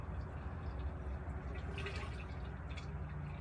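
Coolant poured into the radiator of a 1959 Plymouth Belvedere with a 6V92 Detroit Diesel, heard as a steady low liquid trickle and drip, fairly faint and continuous throughout, with no talking.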